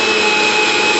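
An electric mixer grinder whirs loudly and steadily, close up, as it grinds soaked rice and urad dal into batter in a home kitchen, a continuous high motor whine with no pauses.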